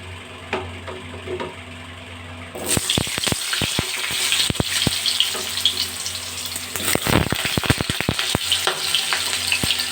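Washed, cut potatoes go into hot oil in a home kitchen with a sudden loud sizzle, then a steady crackling fry punctuated by sharp scraping knocks of a utensil against the pan, close and without talk.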